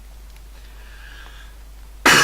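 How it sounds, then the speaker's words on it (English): One sharp, loud cough from a person close to the microphone bursts out at the very end, after a near-silent stretch of low hum. "Sorry folks, I just got a little bit of a cough."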